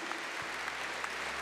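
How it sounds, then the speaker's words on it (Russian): Audience at a People's Front forum applauding award laureates: steady, dense clapping from a large crowd, moderately loud and continuous throughout. "Давайте поаплодируем нашим лауреатам, просто искупаем их аплодисментами."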